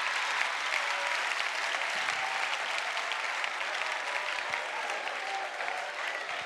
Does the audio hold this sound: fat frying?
no